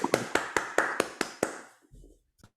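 Clapping at a hackathon showcase: about seven slow, evenly spaced hand claps, close and crisp, tapering off with a brief pause and one last faint clap.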